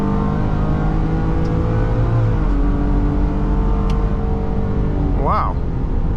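A Ford Police Interceptor Utility Hybrid 3.3L accelerates at full throttle, heard from inside. The engine drone climbs steadily in pitch, drops at a gear shift, then climbs again, loud and continuous.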